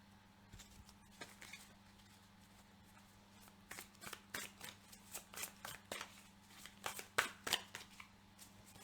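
Cards from an Osho Zen tarot deck are shuffled and drawn, giving a run of soft, quick riffling flutters and papery snaps close by. They build in a steady patter toward the end, with a low hum underneath and no talking.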